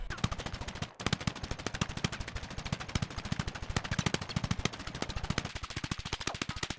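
An M4A1 rifle in Battlefield 6, hip-fired at a wall, rattles off rapid, evenly spaced automatic shots, loud and close, with one brief break just before the first second and then continuous fire.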